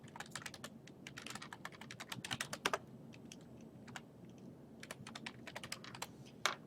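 Login password being typed on a computer keyboard: quick irregular bursts of sharp key clicks, fairly close and quiet, with short pauses between runs.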